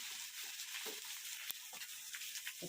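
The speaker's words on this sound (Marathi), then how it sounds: "आता आपण कांदा कढईत टाकलाय।" Sliced onion fries in a spoonful of oil in a kadhai, giving a faint, steady crackling sizzle with small pops and a light scrape of stirring, heard alone.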